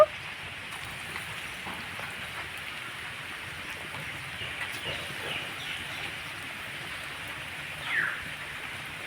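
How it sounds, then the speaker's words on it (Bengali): Ripe mango laddu batter dropped into medium-hot oil gives a steady, even sizzling hiss that stays level throughout, close and moderately loud, with no talk. "এবার অল্প করে নিয়ে আমি তেলের মধ্যে ছেড়ে দেব"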